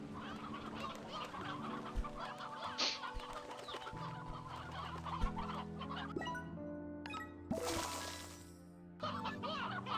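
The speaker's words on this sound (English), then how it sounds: "Why are there chickens outside of the pen?" Chickens cluck continuously in the Slime Rancher video game, moderately near, with occasional bright chimes and other game effects over a steady ambient bed.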